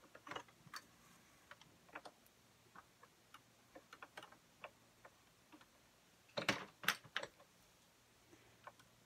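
An Addi Express knitting machine casts off a hat, giving faint, sparse mechanical ticks and clicks, then a brief louder cluster of clacks near the end.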